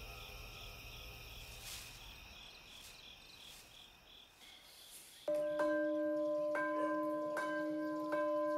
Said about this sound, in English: The bell peals every morning in Sisaket province